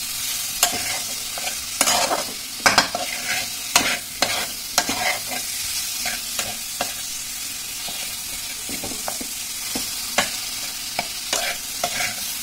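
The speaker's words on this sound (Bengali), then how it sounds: "এবার নুনটার সঙ্গে আমি ভালোভাবে মশলাটা কষে নেব।" Spice paste with salt fries in a pan for a potato and pea curry, a steady close sizzle broken by irregular scraping strokes of a spoon stirring the mixture, with no talking.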